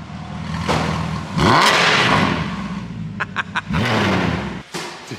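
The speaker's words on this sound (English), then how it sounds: "All right, rev it." A Mercedes C63 engine revs up in sharp bursts, with rising and falling sweeps close by and a quick series of throttle blips near the end, and no talk over it.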